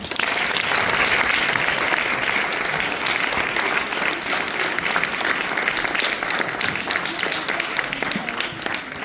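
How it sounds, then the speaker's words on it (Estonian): Loud, dense applause from a school audience at the Kaarli school talent show, continuous and close for several seconds, with cheering voices blended into the clapping. "Teeme aplausi selle peale."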